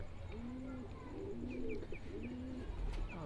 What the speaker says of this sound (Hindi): और एक ये कबूतर है भाई